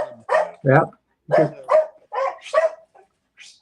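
Dogs bark in a motorcycle chopper shop, several short yips and barks in quick bursts mixed with close conversational speech.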